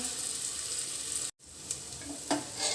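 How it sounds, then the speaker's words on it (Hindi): A mixture being stir-fried with Maggi masala in a pan, giving a soft continuous sizzle with a few scraping stirs, broken by a brief gap of silence. "ये डाला मैंने मैगी मसाला और इस सबको अच्छे से मिक्स कर लेंगे डालकर"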